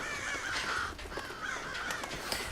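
Birds in a cage in the video game Thief give harsh, repeated caws and squawks in two agitated bursts over a steady background hum.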